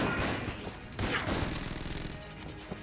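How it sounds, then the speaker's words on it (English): Shots from the Gilded Hydra gun in the roguelike shooter Enter the Gungeon: two loud blasts about a second apart, each trailing into a dense crackling spray, with a fainter pop near the end. "perfect way to waste 2 shots on a highly effective gun"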